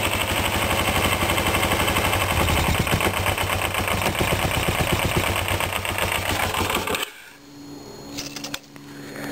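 A Kawasaki Ninja 250 motorcycle idles with its fuel tank removed, a close, steady pulsing rumble for about seven seconds before it cuts out to near quiet.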